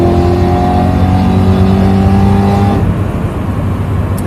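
A supercharged BMW E92 M3 accelerates hard from inside the cabin, its engine and supercharger whine climbing loudly and steadily before a sudden drop as the gear shifts, then pulling on at a lower pitch.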